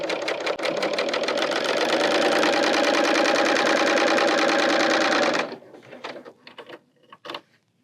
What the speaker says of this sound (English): here we serged around a circle